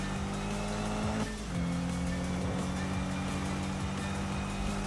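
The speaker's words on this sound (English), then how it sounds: "Drifting is super fun, especially in this game." Car engine drone in the Need for Speed racing game, held steady and loud throughout with a shift in pitch partway as the car slides into a drift, possible faint tire squeal layered over the motor.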